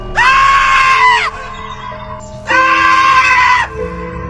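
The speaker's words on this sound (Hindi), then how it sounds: "पीछे का नज़ारा देखकर उसकी चीख निकल जाती है।" A woman's piercing scream of horror in a tense story scene, two long loud high-pitched shrieks with a short pause between them, close and unaccompanied by speech.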